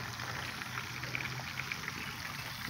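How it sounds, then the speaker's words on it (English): Oil crackling and bubbling as bass fillets fry, a steady busy sizzle with small pops scattered throughout, heard close up. "You got fillet basses in there frying"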